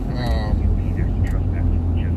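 A police helicopter flies overhead, giving a steady low droning rumble that carries on throughout while people talk over it.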